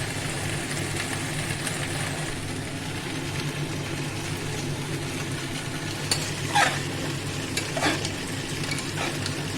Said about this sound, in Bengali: মশলাটা ভালো করে মাখিয়ে দেবো মাখিয়ে আমি অল্প করে জল দেবো